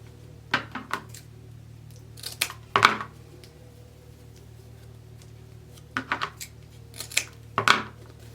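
Scissors snipping ribbon ends for a small witch hat wreath, a handful of sharp, crisp cuts in irregular pairs with quiet gaps between, close and alone.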